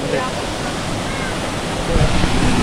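Binbin Falls in Karanglan, Nueva Ecija, gives a steady, dense rush of falling water that fills the whole clip and swells slightly louder near the end.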